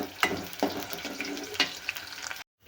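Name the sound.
frying green chillies in a small pot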